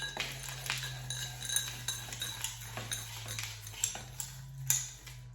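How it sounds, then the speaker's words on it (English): Crushed ice spooned into a gin smash cocktail glass, producing a series of irregular close clinks and light rattles over a low steady hum. "we're going to top this with lots of crushed ice"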